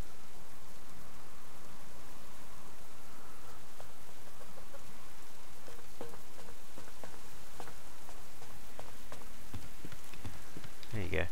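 Rain falls steadily in the survival video game Subsistence, a dense even hiss that fills the whole stretch, with a few sharper crackles and knocks near the end.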